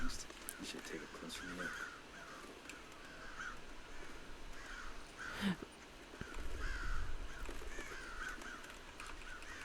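Crows cawing inside the video game Thief Simulator, several scattered calls repeating over a steady ambient bed with a person talking over them.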